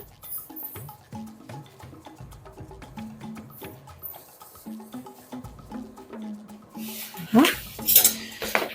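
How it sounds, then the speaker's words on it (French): Spoonfuls of sugar go into a metal pan for a balsamic caramel, with steady clinks and scrapes of a spoon against the pan, a quiet voice talking in French, and a brighter clatter near the end. "Donc je vais mettre mes 3 cuillères à soupe de sucre."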